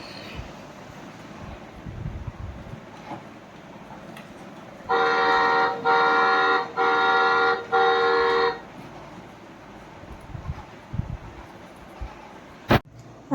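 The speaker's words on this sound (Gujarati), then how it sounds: "હોર્ન વગાડે છે." A nearby vehicle horn sounds four loud, evenly spaced blasts in quick succession outside a home, set against a quiet background.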